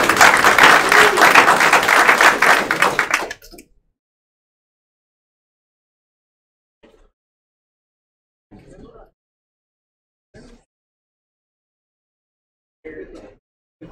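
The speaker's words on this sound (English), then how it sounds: "Let's give them a round of applause" An audience at a career and technical education signing day gives a short burst of applause that cuts off after about three seconds, followed by near silence with a few faint, scattered sounds.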